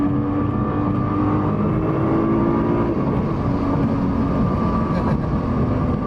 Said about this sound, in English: Somebody wanted us to do a drive-by in the GTR, so we gave them a little show.